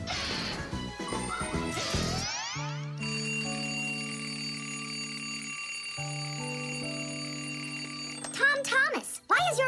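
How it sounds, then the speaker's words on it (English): A cartoon alarm clock shrills in a steady, sustained ring amid playful animated sound effects, with a crash-like clatter before it and squeaky cartoon noises bursting in at the end. "why is your alarm clock ringing in the middle of the night"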